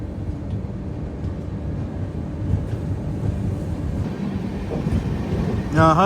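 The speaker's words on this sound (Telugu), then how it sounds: "పైన మెట్రో వెళ్ళిపోతుంది చూడండి, నాగ్పూర్ మెట్రో" A Nagpur metro train rumbles past overhead at Nagpur Junction, a steady low rolling drone building slightly toward the end, with a short horn-like tone at the close.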